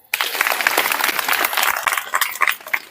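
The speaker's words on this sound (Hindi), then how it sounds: "चलिए, तालियां।" An audience bursts into applause, with dense, lively clapping that starts suddenly and carries on for a few seconds.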